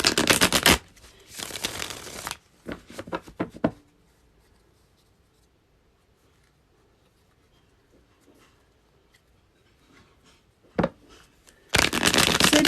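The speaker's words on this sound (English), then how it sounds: "I need to shuffle these a little bit" Tarot cards being shuffled by hand in short crisp riffling bursts: one long burst, a few quick flicks, then a long quiet pause before another shuffle at the end. Close and clear, with no voices.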